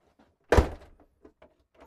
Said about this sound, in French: on ferme notre porte